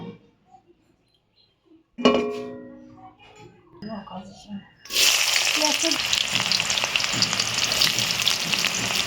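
Onions hit hot oil for veg chowmein and burst into a loud, steady sizzle that fills the second half, after a few quieter clinks and handling sounds.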